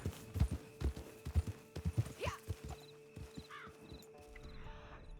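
Wild horses in the Red Dead Online game trot past with a run of clip-clop hoofbeats, a brief whinny cutting in midway, then fading as the hooves thin out near the end.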